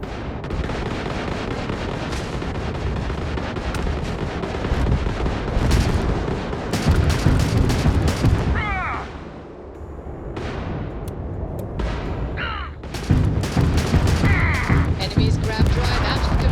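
Spaceship weapons in Starfield blast in heavy, rapid volleys of booming shots and explosions, dipping briefly before more loud bursts and sharp zaps, with voices talking over the barrage.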